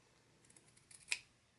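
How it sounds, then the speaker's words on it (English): Scissors snipping the fabric corners of a small sewn bookmark, a few faint, quick close cuts ending in one crisp louder snip, otherwise quiet. "I am going to trim off the tips on the corners, but I don't want to cut my thread"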